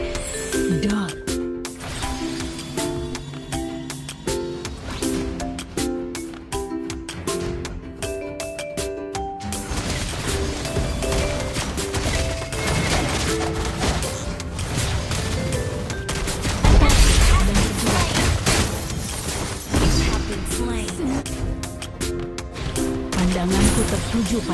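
Gunshots and rapid bursts of gunfire ring out from the Mobile Legends video game, dense and loud under continuous game music and effects with some spoken lines, including a heavier boom midway.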